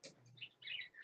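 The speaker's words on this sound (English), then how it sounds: "You gonna do it nice and loud, Shmooey, so we can hear you over the bird?" Faint, high bird chirps come in short clusters, a few quick tweets and trills close together with no talking.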